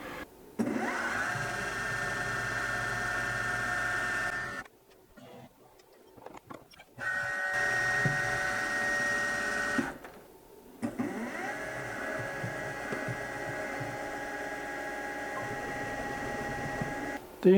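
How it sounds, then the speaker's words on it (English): A small drill bit, 7/64 inch, bores mounting holes, giving a steady machine whir in three long runs split by short quiet gaps, close and moderately loud. "The other thing I need to do is put 2 mounting holes in here. This is 7/64."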